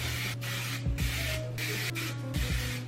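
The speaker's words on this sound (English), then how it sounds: "I just spray my hair with a heat protectant" Kenneth Bernard heat protectant spray misted onto hair in a few short hissing bursts, close and steady, with a low hum running underneath.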